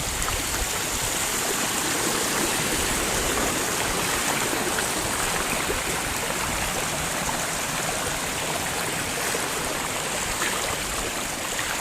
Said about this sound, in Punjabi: ਉਹ ਕਿੰਨਾ ਫਰਕ ਪੈ ਗਿਆ ਉਹ ਕਿੰਨਾ ਆਉਣਾ ਹੋ ਗਿਆ ਪਾਣੀ ਹੁਣ